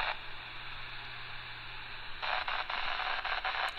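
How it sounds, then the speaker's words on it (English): A handheld GMRS radio in the field gives off steady hissing static with a low hum underneath, and the hiss grows louder and crackles in bursts partway through. "And so now I'm hearing the static on the 2 meter call."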